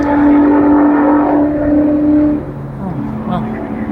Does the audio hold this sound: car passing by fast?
yes